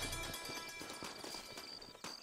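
Horse hooves in Red Dead Redemption 2 clop along in a steady, fairly quick running rhythm, close and moderately loud, with some faint game ambience behind them.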